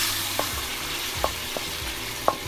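Turmeric and other ground spices sizzle in a pan with a splash of water, a steady frying hiss broken by a few sharp clinks of a stirring spoon.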